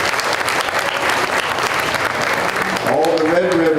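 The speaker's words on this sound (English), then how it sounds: "Give them all a big round of applause." Crowd applause fills the stands at a county fair market steer show, a dense, steady roar of clapping; near the end a voice begins speaking over the clapping.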